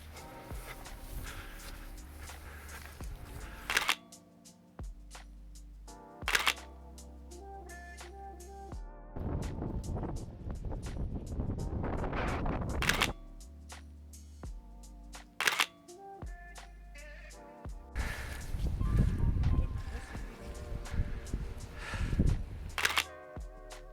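A Nikon F100 35mm film camera with a 50mm lens fires its shutter and motor-advances the film, sharp mechanical clicks and whirs repeating several times at close range with quieter handling between.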